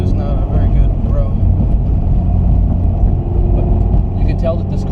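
Steady low rumble of road noise inside the cabin of a Subaru BRZ driving slowly over a rough, poor road, continuous and fairly loud, with someone talking over it throughout.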